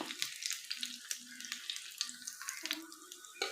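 Bread slices fry in a pan until brown, giving a faint, close crackle and sizzle with irregular pops and a soft tonal murmur beneath.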